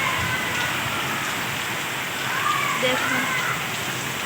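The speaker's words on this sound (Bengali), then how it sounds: "তুফানি বৃষ্টি, কালবৈশাখী বৃষ্টি, শিলা" Kalbaishakhi storm rain with hail pours down as a loud, steady, dense rush that stays even throughout, with a voice speaking briefly over it.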